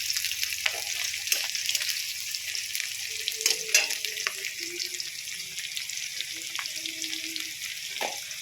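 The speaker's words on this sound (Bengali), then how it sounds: "তেলের মধ্যে দিয়ে দিলাম পেঁয়াজ কোচানোগুলো দিয়ে খুব সুন্দর করে নাড়িয়ে চাড়িয়ে আমি ভেজে নেব" Sliced onions fry in hot oil for a Bengali potato, taro and fish curry, giving a steady close sizzle with scattered scrapes and clinks of a spatula stirring the pan; no one talks.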